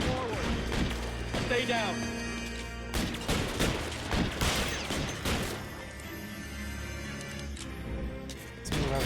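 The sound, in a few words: gunfire in the video game L.A. Noire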